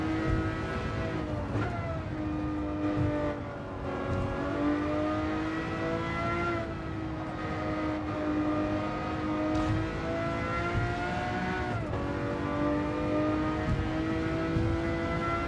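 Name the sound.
Lamborghini Murcielago LP 640 race car engine in Gran Turismo 7 video game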